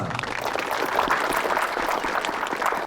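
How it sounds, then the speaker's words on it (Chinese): A studio audience claps steadily to send off a guest on a Chinese television show, a dense, even wash of applause lasting about three seconds before stopping abruptly. "那咱掌声欢送一下郭老师"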